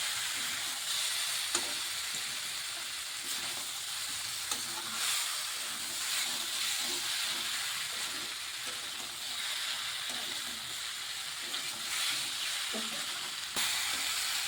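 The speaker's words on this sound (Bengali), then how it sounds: "আমি যেহেতু চিনিটা দিয়েছি একটু ভাজা ভাজা করে নিচ্ছি" Vegetables frying with sugar in a pan, a steady, bright sizzle with soft scraping stirs now and then, close and even throughout with no one talking.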